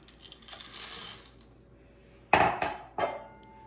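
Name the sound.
chocolate chips poured into cookie batter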